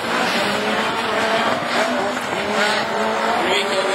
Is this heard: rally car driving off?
yes